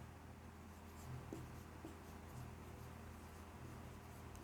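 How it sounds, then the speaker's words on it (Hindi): Faint scratch of a heading being written on a board during a Class 12 biology lecture, soft intermittent strokes over a low steady room hum, with no talking. "तो यहाँ पर इसकी एक छोटी सी हेडिंग लिखेंगे, अनुकूलताएँ।"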